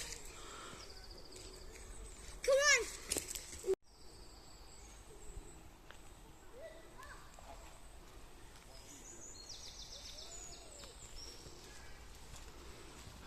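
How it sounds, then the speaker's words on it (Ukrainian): A bird calls briefly in a quiet March forest, followed by faint, sparse chirps over soft background rustle and distant ambience. "послухали пташечок. Як заливається пташечка."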